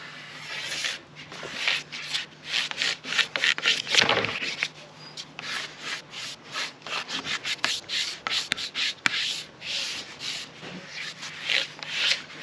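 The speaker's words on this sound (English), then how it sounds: "And then we'll just come in with the scraper and get all of that wax off." Hand scraper pulling hot wax off a ski base in repeated rapid strokes, producing a steady close rubbing and scraping rhythm with short pauses between passes, no talking.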